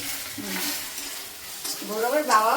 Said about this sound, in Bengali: এই যেমন আলু ভাজা দিয়ে আর ডিমের ডিম দিয়ে এখন ভাত ফ্রাই হবে